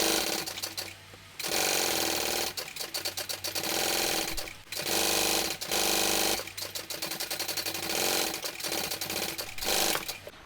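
A sewing machine basting fabric pieces of a Tiny Cata pattern together with a narrow seam allowance, running in loud, steady bursts of rapid stitching separated by short pauses, with no talking.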